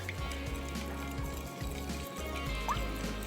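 Water poured into about half a kilo of flour while mixing a stiff dough for cocktail biryani, a steady close liquid trickle and splash with gurgling under low background rumble, no talk.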